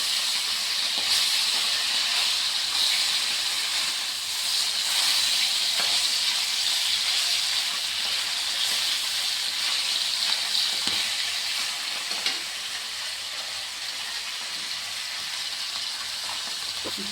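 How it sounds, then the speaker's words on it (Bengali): Fish marinated in turmeric and salt fries in hot oil, giving a loud, continuous close-up sizzle and hiss that holds steady throughout with only faint occasional stirring. "এখন আমি ভেজে নিচ্ছি"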